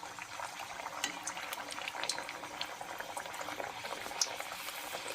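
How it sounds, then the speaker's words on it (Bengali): Luchi frying in hot oil in a wok, a steady dense bubbling sizzle with scattered crackles and pops, close and fairly loud throughout, no voices. "তেল গরম হয়ে গিয়েছে, দিয়ে দিচ্ছি বেলে রাখা লুচি।"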